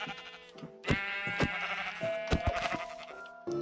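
Sheep in Minecraft bleating several times in quick, wavering calls, close and clear, with a few short game sound effects between them.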